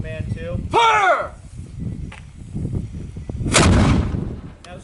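Cannons firing case shot boom during a night display at Fort Ticonderoga, with a sharp blast followed by a long rumbling roll that fades out, preceded by a shouted command and voices nearby.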